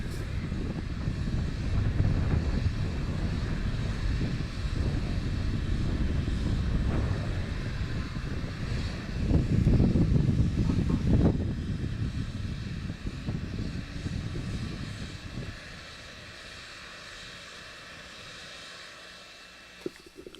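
A Falcon 9 rocket's first stage engines roar during ascent on a resupply launch to the ISS, a steady distant broadband rumble that swells midway and then thins out toward the end.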